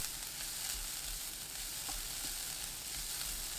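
Onion and carrot stir-fry in oil in a preheated pan over high heat, a constant soft hiss of sizzling with faint occasional stirring, no speech.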